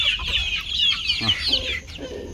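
Naked neck chickens cluck softly and irregularly nearby, mixed with high, continuous peeping chirps over a low farmyard hum.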